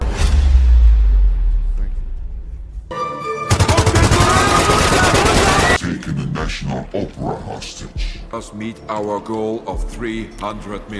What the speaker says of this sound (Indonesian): aksi tembak-tembakan pun pecah